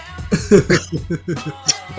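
Someone close by coughs in a rapid, uneven string of short, harsh bursts, choking on a piece of wheat snack stuck in the throat.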